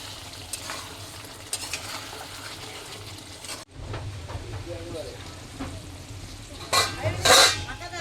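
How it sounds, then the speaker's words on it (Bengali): Spice masala frying in a pot for a rohu fish curry with jackfruit, stirred by hand: continuous sizzle with scraping strokes, a brief pause, then louder clattering and crackling toward the end. "একটু নাড়িয়ে দিলাম"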